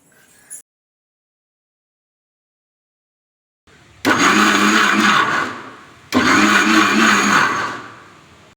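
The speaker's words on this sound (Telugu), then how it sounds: "తర్వాత దీన్ని ఒక మిక్సీ జార్లోకి ట్రాన్స్ఫర్ చేసుకొని మరీ మెత్తగా కాకుండా లైట్ పల్స్ ఇస్తూ కచ్చా పచ్చగా గ్రైండ్ చేసుకోండి" A mixer grinder pulses tomato chutney in a jar in two short, loud bursts of a few seconds each, with a pause between them, close up and with no talk.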